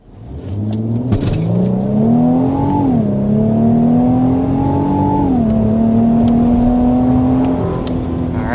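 A 2025 Infiniti QX80 SUV accelerates hard to 60 mph. A loud engine note climbs in pitch and then drops at two gear shifts before rising again, heard steadily from inside the cabin.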